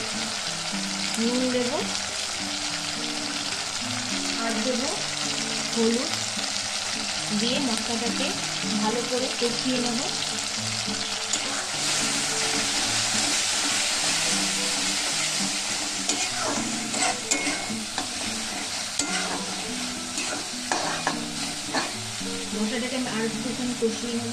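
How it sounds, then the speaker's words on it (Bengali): Potatoes sautéing in masala for an egg and brinjal curry, a dense, steady frying sizzle with repeated spoon scrapes and stirring knocks, heard up close for a long stretch. "এই মশলার মধ্যে ভালো করে এটাকে কষিয়ে নেব"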